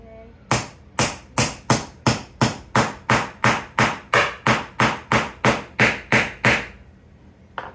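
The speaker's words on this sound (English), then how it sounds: "do some nice taps to get it nice on the board" A hammer taps a nail into a board for a jewelry shelf, sounding seventeen evenly spaced, close, loud strikes in a steady rhythm that stop near the end.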